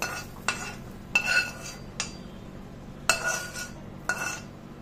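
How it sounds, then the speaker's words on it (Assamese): Fried vegetables scooped from a pan onto a plate with a metal utensil, producing about six sharp clinks and scrapes spaced roughly a second apart over a quiet background. "ইয়াতে মই প্লেটখনত গোটেইখিনি উলিয়াই লৈছো"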